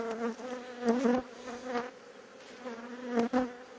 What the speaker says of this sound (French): Une abeille qui rentre dans le fut là